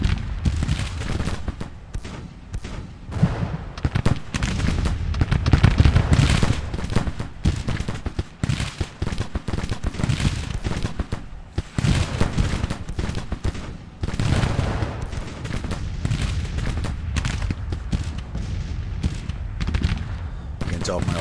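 Artillery and gunfire in Grand Tactician: The Civil War, continuous crackling musket volleys and booming cannon shots from a battlefield, dense and uneven over about twenty seconds.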